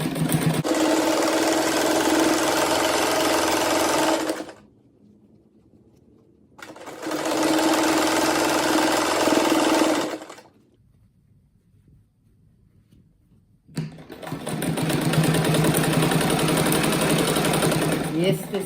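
A sewing machine stitches fabric scraps for a patchwork bathroom set in three long, loud, steady runs of rapid mechanical whirring, separated by quiet pauses where faint handling sounds are heard.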